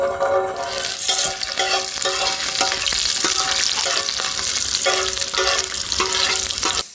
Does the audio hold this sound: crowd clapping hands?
no